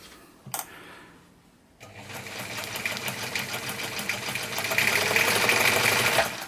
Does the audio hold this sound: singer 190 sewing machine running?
yes